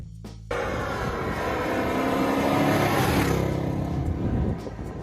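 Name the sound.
1970 Ford Torino Cobra muscle car engine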